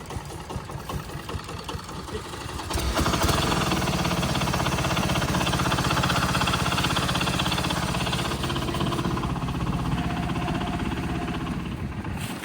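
A vehicle towing a trailer loaded with corn stalks idles roughly, then after a few seconds its engine swells into a loud, steady, vibrating drone that continues to the end.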